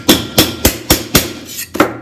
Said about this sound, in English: you kind of got to come in here with a hammer and straighten